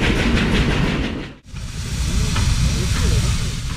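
A Czechoslovakian class 556 steam freight locomotive, among the largest and most powerful of the former Czechoslovakian railways, rumbles past with a steady loud roar and hiss, briefly dipping before the rolling clatter of wagons resumes.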